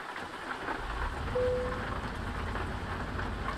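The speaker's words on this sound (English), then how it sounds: "And it sounds like it's raining." Steady rain in Euro Truck Simulator 2 patters continuously, a soft even hiss of falling drops with a low rumble beneath, moderately quiet.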